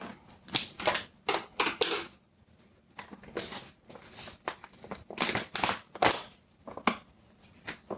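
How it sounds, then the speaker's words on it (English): Sharp snipping and crinkling as scissors cut open a plastic bag of powdered oat milk, several quick bursts in uneven rhythm, close by with short pauses between cuts. "So I need scissors to open it."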